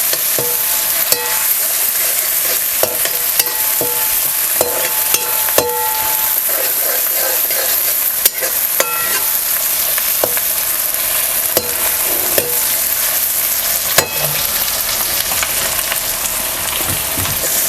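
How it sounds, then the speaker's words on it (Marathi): Chopped tomatoes sizzle steadily in a pan for egg biryani while a spoon stirs and scrapes them, with scattered clicks against the pan over a constant bright frying hiss, close and loud, no talking. "टमॅटो सुद्धा आपल्याला असं मौसूद होईपर्यंत आपल्याला हे परतून घ्यायचं"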